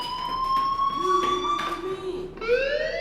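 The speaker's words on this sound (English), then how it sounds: "Hey, do you hear that fire alarm?" A school fire alarm rings in the video game Life is Strange. It is a steady electronic tone that holds, then sweeps upward in pitch near the end, ringing fairly loud and close with faint background murmur.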